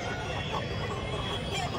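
Native country chickens at a market clucking amid a dense, busy background din, short and fairly loud.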